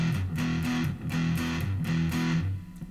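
Electric guitar with heavy distortion chugs through the verse riff of a song, steady palm-muted repeated notes in a driving rhythm, loud and continuous with no voice.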